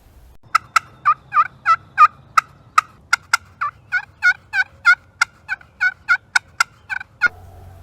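A turkey pot call, a slate call worked by hand, produces a rapid series of about two dozen crisp, clucking yelps that imitate a wild turkey. The yelps sound close and clear over a faint low hum, and each one is short and separate.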